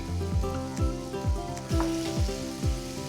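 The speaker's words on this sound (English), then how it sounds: "Because the bacon is starting to brown and I see the rendered bacon fat" Bacon browning in a pan gives a steady close sizzle, broken by regular low knocks roughly every half second, with no voices.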